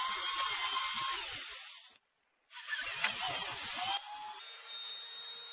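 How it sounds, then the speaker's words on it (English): A high-pitched power drill with a 3/16 inch bit whines loudly drilling through an RV's outer skin, cuts out briefly, then spins up again and settles to a lower, steady drone. "using a 3/16 inch drill bit, drill through the outer skin"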